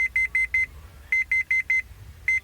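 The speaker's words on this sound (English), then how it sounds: "If, after turning off the engine, you open the driver's door but have forgotten to switch off the headlights, a warning buzzer" A Renault Mégane Classic's headlights-on warning buzzer sounds when the driver's door opens with the lights still switched on: loud, steady, evenly spaced electronic beeps in bursts of four, then four more, then a single beep, with no talking.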